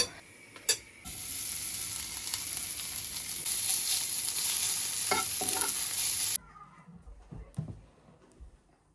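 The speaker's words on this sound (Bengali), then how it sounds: "এটা হচ্ছে ফ্রোজেন রুটি ফ্রাই করে নিচ্ছি" Frozen roti fries in a pan with a loud, steady sizzle and scraping stir sounds, cutting off abruptly into quieter kitchen clatter.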